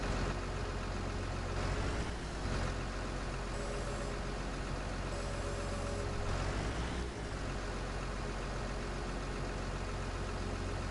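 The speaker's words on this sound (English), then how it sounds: "Shane, he said that truck sounds so good." A heavy truck engine in Farming Simulator 19 idles with a steady low rumble, a few brief revs and faint tonal beeps; no talking.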